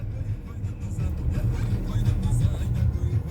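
A car engine idles steadily at close range with a low, even rumble, then is shut off by automatic stop-start after parking in a village.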